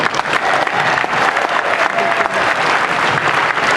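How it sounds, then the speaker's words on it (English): At a high school wrestling tribute meet, the gym crowd bursts into loud, close applause for the youth wrestlers, brisk dense clapping with scattered cheers running the whole short stretch. "I'd like to give a big round of applause for all these youth wrestlers"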